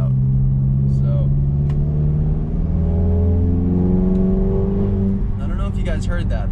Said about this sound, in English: you get a little bit of turbo noise without the exhaust droning it out